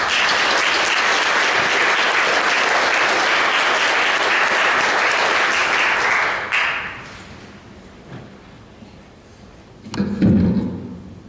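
Sustained audience applause at an evening club meeting presentation welcoming a presenter, steady and dense for about six seconds, then fading out with a few scattered claps and a brief thump near the end.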